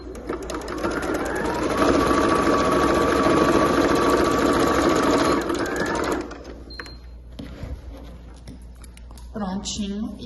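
A domestic sewing machine runs steadily for about six seconds, stitching fabric for a wine bottle holder, then stops, followed by quieter handling sounds and a brief voice near the end.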